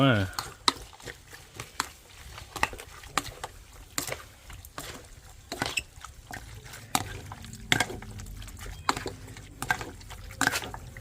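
A pinch of MSG is stirred into raw buffalo meat salad by hand, with repeated wet squelches and sharp clicks in a steady, uneven rhythm, close and moderately loud throughout.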